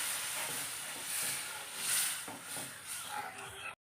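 Soaked kudampuli water poured into hot masala sets off a broad, steady steam hiss that swells and fades, nearby and fairly faint, ending abruptly.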